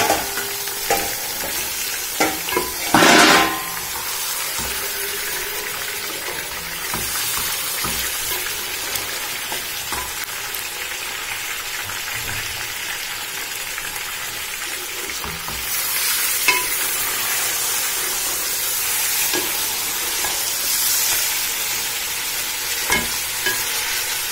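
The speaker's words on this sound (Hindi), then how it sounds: "गोश्त को डाल के इसको थोड़ा ब्राउन करूँगी।" Steady sizzling and frying of meat browning in a pot for Delhi nihari fills the clip, with occasional stirring scrapes and clinks, loud and close throughout with no talking.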